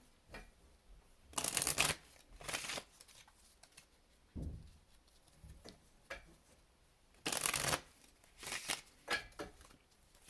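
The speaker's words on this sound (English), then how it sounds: "Let's get a oracle card out for you." A deck of oracle cards is shuffled by hand in several separate bursts of crisp, papery riffling, with short quiet gaps between them. The sound is close and there is no talk.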